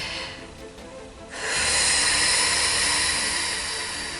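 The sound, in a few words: deep breathing during meditation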